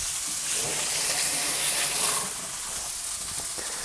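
Steak sizzles loudly in a frying pan, a dense, steady hiss of fat and moisture crackling close up with no voices over it.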